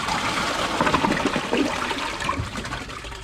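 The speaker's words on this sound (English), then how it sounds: "Here's another flush at this angle." A 2020 Kohler Wellworth Class 5 dual-flush toilet flushes with a steady, loud rush of water that swirls and drains throughout, heard close up with no talking.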